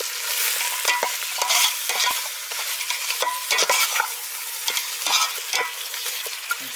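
Country chicken pieces with yogurt fry loudly in a pan, a strong sizzling hiss broken by repeated scraping stirs and clatter, close and with no talking.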